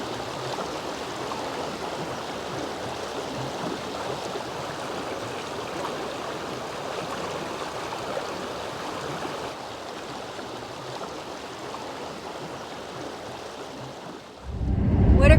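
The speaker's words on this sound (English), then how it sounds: "I thought I'd come check out the Tuzigoot River, which is right down the road from the Tuzigoot National Monument." The Tuzigoot River in the Arizona desert flows with a steady, close rushing and burbling of water that holds even for most of its length, ending in a sudden loud low thump.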